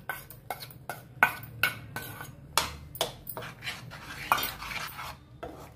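Tomato puree added to a pan for a paneer tomato curry, then worked with a spoon, giving a series of distinct metallic scrapes and clinks against the pan, close and rhythmic, with no one speaking.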